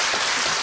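Brief, dense audience applause in a studio, a loud continuous wash of many hands clapping with no voices over it.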